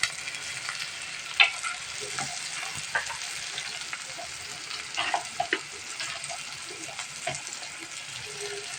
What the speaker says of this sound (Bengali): চিংড়ি মাছটা সুন্দর করে ভেজে নেব তারপর সামান্য হলুদ দেবো